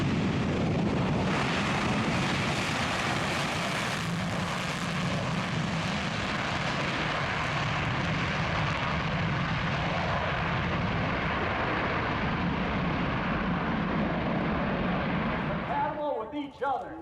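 A loud, continuous roar of large military bomber engines, one with eight engines, passing overhead at EAA AirVenture Oshkosh 2017, sustained and heavy, fading near the end.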